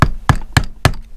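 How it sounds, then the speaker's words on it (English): Four sharp metallic taps in an even rhythm, close and loud, as the tabs of a lock washer are bent down during a bottom-end rebuild of a Suzuki TS185 two-stroke engine. "Now we just gotta bend the tabs down on the washer."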